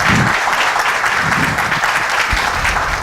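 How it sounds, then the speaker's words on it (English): An audience at an evening talk-show event applauds a guest, a dense, steady wash of many hands clapping, loud and continuous throughout. "I would request all of you to give a big round of applause for him"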